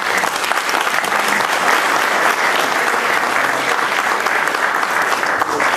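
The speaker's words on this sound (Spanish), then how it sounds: "Las fuertes palmas para los opositores." Dense, steady applause from a seated audience closing a panel session at a comanejo experience event in Peru, loud and continuous throughout with no pauses.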